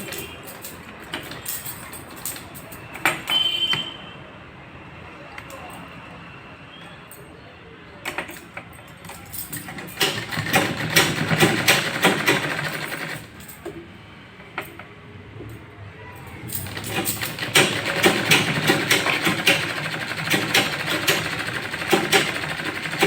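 A sewing machine stitches the hem of a lined 42-inch blouse, running in two sustained bursts of whirring stitching, the second longer, separated by quieter handling sounds.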